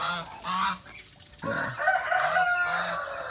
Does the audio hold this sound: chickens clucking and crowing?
yes